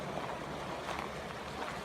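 A forest stream flows under a full tree canopy on a long hiking trail, a steady, dense rushing wash of water with no voices.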